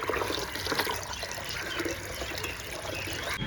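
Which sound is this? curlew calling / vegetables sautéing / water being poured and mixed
water being poured and mixed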